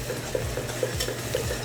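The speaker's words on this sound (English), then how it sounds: "Then we're going to take some of our baking cocoa, add it to the butter, mix it through" Baking cocoa stirred into melted butter in a saucepan, a soft rhythmic scraping of the spoon repeating every half second or so over a faint low sizzle, close and without talk.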